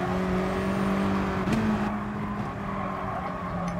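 Race cars in Gran Turismo Sport whine past on a track, engines holding a steady droning tone that shifts pitch as they accelerate through a corner, with a constant background hum.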